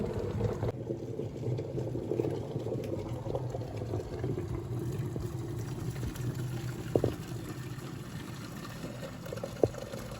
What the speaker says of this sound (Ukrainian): Отак красиво кипить мій чайник новий